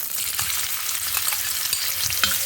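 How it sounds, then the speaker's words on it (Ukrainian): Bacon frying in two tablespoons of oil in a pot for Polish cabbage soup, a dense, close sizzle with scattered crackles and stirring scrapes throughout. "І зараз першим ділом ми обсмажуємо наш бікончик."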